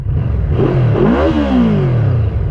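Yamaha V-Max 200 hp motorcycle engine starting and revving close up, pitch sweeping up to a sharp peak and falling back, loud and continuous over about two seconds with no speech.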